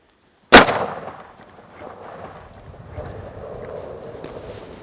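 A single loud, close gunshot fired at a turkey during a California turkey hunt, a sharp crack after silence that decays into outdoor ambience and faint rustling.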